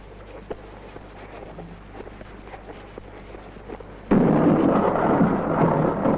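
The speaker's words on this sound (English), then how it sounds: "the ship ran into a storm again" A thunderstorm at sea breaks in as a sudden loud roar of thunder and heavy wind-driven rain, rising abruptly over a quiet, faintly rustling background and holding steady.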